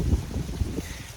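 Gusty wind buffets a garden in Maine, a loud close rumbling roar against the microphone that swells and eases over about a second.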